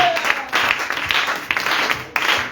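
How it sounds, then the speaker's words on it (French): A church congregation clapping for the Lord at a Sunday service, steady rhythmic hand claps filling the room, loud and close, with little talk over them. "Let's clap for the Lord."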